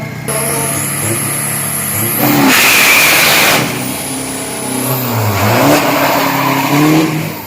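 A turbocharged street car drag races on a 402 m strip at Khlong 5 on Kaizo tyres, its engine revving hard in loud bursts with rising and falling pitch and tyre noise, loud and close with no talk.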